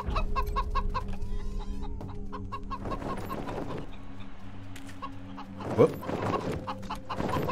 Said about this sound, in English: let us hastily move away from these chickens, because they appear to be trying to eat our microphone.